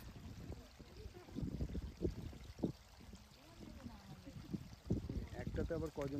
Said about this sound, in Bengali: নদীর কলকল ধ্বনি শুনতে শুনতে এগিয়ে চললাম নৌকার দিকে